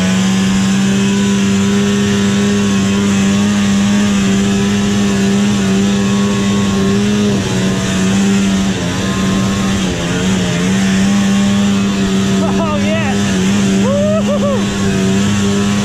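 Vintage snowmobile engines drone steadily and loud throughout, a continuous mid-pitched motor hum near the microphone with slight rises as throttle changes, ridden through trees behind a house at about 8,500 feet.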